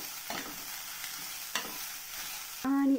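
Cabbage stirred into mushroom samosa filling frying in a pan, a steady sizzle with a few soft scraping strokes, then a brief louder clink near the end, close and without speech.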